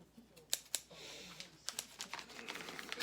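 Scissors snipping open a mail package on a tabletop, a few crisp close cuts and crinkling packaging noises in quick irregular succession, no voices.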